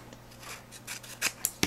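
Scissors snip through scrap paper, giving a run of soft rasping cuts that build to sharper, louder snips near the end, heard close and alone.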